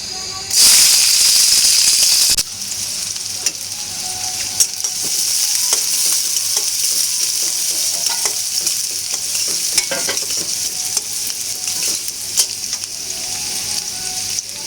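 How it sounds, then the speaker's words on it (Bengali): A steady, loud sizzle of chopped onions frying in hot oil, with a sharp burst of hiss at the start that settles into continuous crackling, with no voices. "তেল গরম হয়ে গিয়েছে, এর মধ্যে আমি পেঁয়াজ কুচিগুলো দিয়ে দিব"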